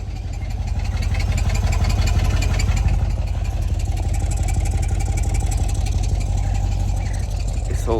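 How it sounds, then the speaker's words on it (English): A car with its muffler deleted idles loudly with a steady throbbing exhaust drone and a fast buzzy rattle from a loose flap inside the exhaust, continuous throughout with brief talking. "That's a little flap inside the exhaust, you know, like this."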